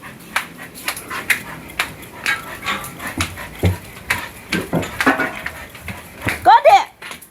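A big dog barks in short bursts and ends with a few high, whining whimpers, close by, while people talk around it.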